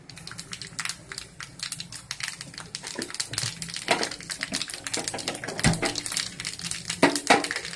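Mustard seeds in hot oil in a pan give dense, rapid crackling and popping, a busy spatter of sharp little snaps that grows louder toward the end.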